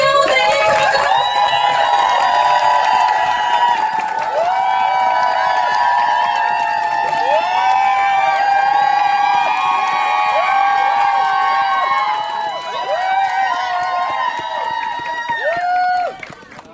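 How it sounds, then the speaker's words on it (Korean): A lively audience at a network-marketing group meeting cheers and shouts to welcome a speaker, loud and sustained over upbeat music, with whoops rising and falling before the noise drops off at the end. "큰 박수로 모시겠습니다. 갓영 선생님, 큰 박수!"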